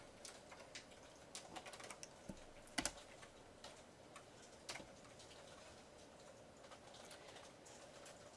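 Students type on computer keyboards in a C++ programming class, quiet scattered key clicks in irregular bursts with a few sharper clacks, faint and close against a hushed room, no talking.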